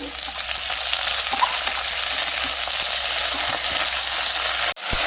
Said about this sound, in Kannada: ಒಂದು ಎರಡು ನಿಮಿಷ ಫ್ರೈ ಆಗಲಿ ಸಾಕು ಮೆಂತ್ಯ ಸೊಪ್ಪು